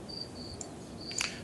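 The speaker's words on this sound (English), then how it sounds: "Please shut up, crickets." Crickets chirp faintly in the background, thin high trills coming in short bursts against a quiet room hum, with no voices present.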